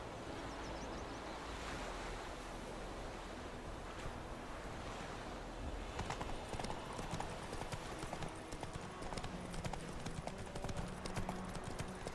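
Horse hooves clip-clop steadily while riding in The Witcher 3: Wild Hunt, a continuous trotting rhythm over a bed of wind and surf-like ambience, getting somewhat more distinct partway through.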